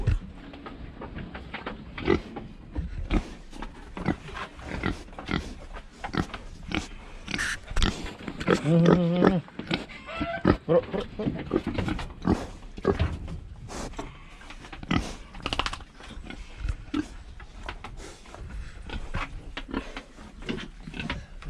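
Pigs grunt close by in a dense, irregular stream of short snorts and oinks for about twenty seconds, with a few louder squeals in the middle and no speech.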